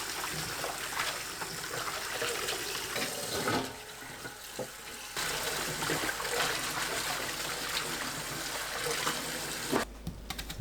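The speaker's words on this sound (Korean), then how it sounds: "무청은 여러 번 흔들어가면서 헹궈내세요." Radish greens rinsed and shaken repeatedly in a sink under running tap water, a steady splashing flow with intermittent sloshing and a pause before it resumes.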